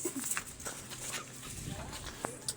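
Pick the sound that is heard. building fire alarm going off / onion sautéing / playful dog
playful dog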